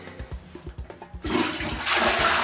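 A household toilet flushes loudly, its rushing surge of water starting abruptly partway through after a few soft knocks and thumps, then filling the space with a steady hiss.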